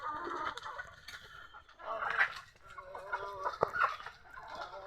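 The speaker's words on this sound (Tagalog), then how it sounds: "So ayan guys, maraming mga manok yan." Several chickens cluck and squawk close by in irregular bursts, with a quieter background of farmyard noise.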